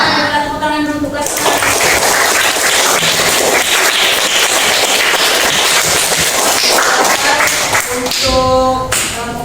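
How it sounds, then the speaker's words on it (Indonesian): Children in a classroom clap their hands in one sustained, dense burst lasting several seconds, with a voice speaking just before and right after the clapping. "Kita tepuk tangan dulu untuk kelas"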